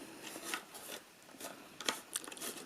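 Paper gift box folds being creased by hand: soft, dry scraping and rubbing strokes in short intermittent bursts, quiet and close, with no talking.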